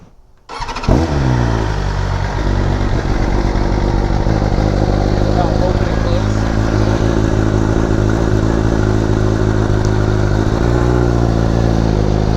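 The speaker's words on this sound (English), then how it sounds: "This is going to be the first startup. It's gonna sound different because now the valves are open" A BMW M1000RR superbike fires up for its first start with its valves now open, catching after a short crank and settling into a loud, close, steady high idle that holds unbroken to the end.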